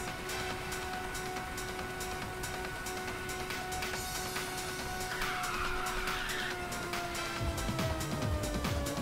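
A car drifting with nitrous in the racing game Ridge Racer 6: a sustained engine drone with a long tire squeal layered on top. The sound holds steady and loud, with a brief brighter skid burst partway through.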